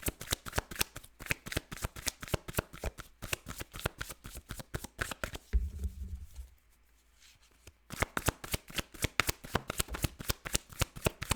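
Tarot cards riffled and shuffled in quick, crisp bursts of rapid flutters, close and fairly loud, with a short quieter pause midway before the shuffling resumes.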